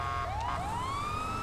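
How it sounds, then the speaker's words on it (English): An ambulance siren in the GTA 5 video game wails with one rising, steady tone, heard at moderate distance and fairly quiet, with no voices. "Is the ambulance at least going to pass?"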